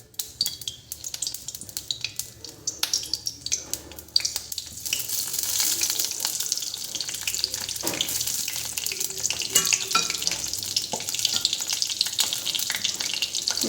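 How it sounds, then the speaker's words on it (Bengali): Cumin seeds and bay leaf frying in hot oil in a kadai for a gourd curry, starting with scattered sharp crackles and settling into a steady close sizzle with occasional utensil clinks. "এই যে জিরাটা একটু ভাজা হয়ে গেছে"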